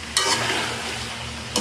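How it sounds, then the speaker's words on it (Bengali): About 1200 g of chicken fries in plenty of oil in a karahi for Pakistani karahi chicken, giving a steady close sizzle with sharp scraping bursts as it is stirred. "এখানে হলো মুরগির তেলের মধ্যে ভাজছি,"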